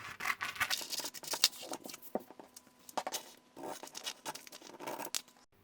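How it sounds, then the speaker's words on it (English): Scissors snip around release paper for a handmade furry reindeer Christmas card, giving irregular close crisp cuts and rustles with short pauses, no talk. "just cut around it using scissors or a craft knife"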